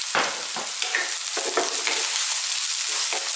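Onions go into a hot pan for chicken chow mein over maximum heat, a loud, bright sizzle with stirring scrapes and a few sharp bursts, steady throughout with no talking.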